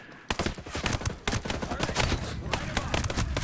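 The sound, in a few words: gunfire in video game Ghost Recon Breakpoint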